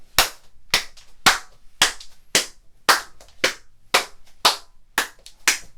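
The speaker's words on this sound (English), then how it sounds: "do a really scientific clap test" Sharp single hand claps ring out one by one in a room without acoustic panels, about eleven evenly spaced claps, each followed by a short reverberant tail.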